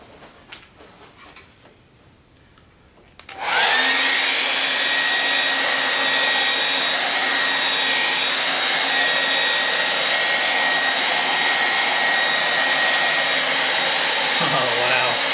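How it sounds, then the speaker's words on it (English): A hair dryer switches on after a few quiet seconds and blows steadily on resin art with a loud, constant whooshing hum until the end. "I'm gonna use the hair dryer and move this around a little bit."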